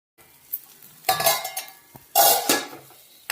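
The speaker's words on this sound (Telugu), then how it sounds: "ఇలా మధ్య మధ్యలో కలుపుకుంటూ ఉండాలి." Kanchara kayalu mixture being stirred in a pot, a spoon scraping and clinking against the metal in two bursts of busy scraping separated by short pauses, close and clear with no talking.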